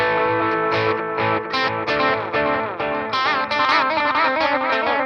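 Electric guitar played through an amp suite with delay and distortion, a chorus-like effected rhythm riff of repeated chords and bends, loud and continuous with no talking.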